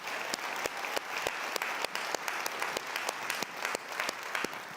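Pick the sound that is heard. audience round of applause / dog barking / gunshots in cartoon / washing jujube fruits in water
audience round of applause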